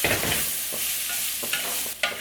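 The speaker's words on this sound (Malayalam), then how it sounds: "ഒന്നെല്ലാം കൂടി നന്നായിട്ടൊന്ന് മിക്സായിട്ട് വന്നോട്ടെ" A cooked Chinese potato (koorka) mixture being stirred in a pan, with a constant sizzle and a few distinct scraping strokes up close.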